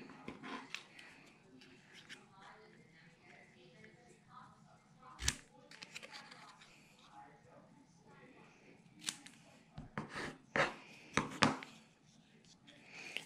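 Cardstock scrap for a handmade card is trimmed down, giving several sharp, close cutting snaps clustered near the end, with quiet rustling of paper between them.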